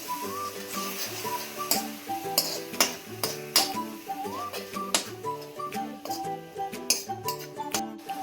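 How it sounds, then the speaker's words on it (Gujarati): A spoon clinks against a pan again and again while tomato paste is stirred into a spice mixture, the sharp taps coming at an uneven rhythm under steady background music. "ટામેટાનો પેસ્ટ એડ કરીને મિત્રો તેને આપણે સારી રીતે મિક્સ કરી દઈશું"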